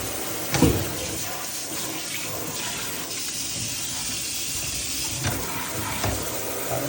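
Water runs steadily from a bathroom sink faucet in a house, a continuous close hiss with a couple of brief knocks near the start and end, no talking.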